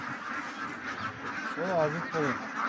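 Ducks at a duck farm in Abu Dhabi give a few nasal quacks close by while people talk over them.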